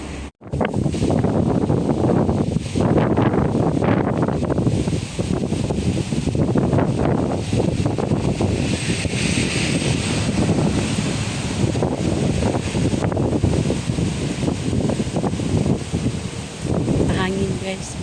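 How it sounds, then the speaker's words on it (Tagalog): Strong, steady wind buffets the microphone in a continuous roar, with surf-like wash and people talking faintly underneath. "Mahangin, guys, mahangin."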